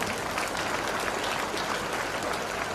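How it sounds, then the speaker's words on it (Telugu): A crowd at a political gathering in Siddipet claps together in a dense, continuous wash of applause, steady and fairly loud from start to finish with no break. "ఒకసారి గట్టిగా క్లాప్స్ కొట్టండి సార్."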